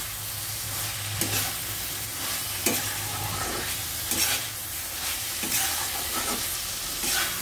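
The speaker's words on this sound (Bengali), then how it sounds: "আলুটা দিয়ে আমি সুন্দর করে ভেজে নিচ্ছি।" Potatoes frying in spice masala for a fish-head curry, a constant close sizzle broken by several scraping stirs of a spatula against the pan.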